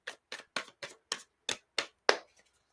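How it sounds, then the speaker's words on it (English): Tarot cards are shuffled in eight quick, crisp bursts spaced at a regular rhythm, close and clear against near silence. "Shuffling the cards for you,"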